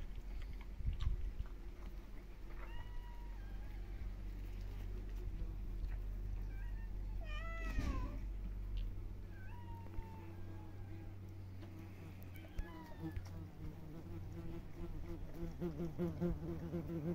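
Several drawn-out meows from a male kitten rise and fall at moderate distance in a garden, spread through the clip over a steady low rumble and faint background noise.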